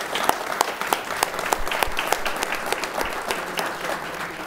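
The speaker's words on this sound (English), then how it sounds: "If we could give them a round of applause." An audience claps for business panelists after a discussion session, a dense sustained burst of many hands with sharp individual claps standing out, fairly loud and close, continuing without talk.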